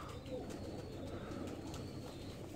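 A Zeera pigeon coos faintly in a loft, making soft, low, rolling calls under steady background noise.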